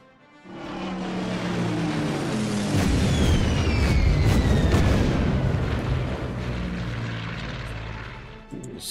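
A propeller-driven bomber drones past in a video game. The roar swells and holds loud overhead, with a falling whistle as it passes, then slowly fades, with no voices.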